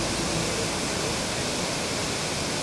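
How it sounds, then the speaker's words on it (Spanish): Cascada Hollín, a waterfall in the Amazon, roars as a dense, unbroken wash of falling water, loud and steady with no voices. "mire la cascada"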